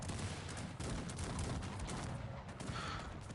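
Dense, continuous barrage of booming cannon and artillery blasts and gunfire from the strategy game Cossacks 3, heavy low rumble with rapid overlapping shots throughout.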